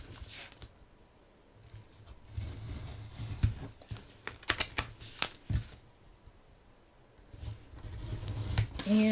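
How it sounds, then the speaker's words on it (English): Scissors snip through a cardboard file folder in a series of short, crisp cuts, with rustling and handling of the folder between them, close and fairly quiet. "I remove them by doing a slight angle cut in as I go down, and a slight angle cut here"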